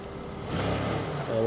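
A remote control car drives in reverse, its motor giving a close, rising whir that holds steady and then swells again near the end.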